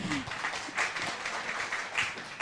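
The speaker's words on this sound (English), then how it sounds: "Please give applause." Audience applause in a conference room during a zoo design and enrichment session, a broad, steady wash of clapping from a crowd, moderately loud and continuous, with a faint voice near the start.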